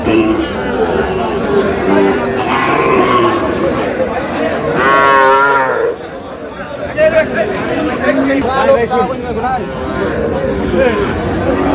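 A Sahiwal bull calf moos loudly in long drawn-out calls amid a bustling crowd, with people chattering all around at a busy cattle market in Dinajpur, Bangladesh.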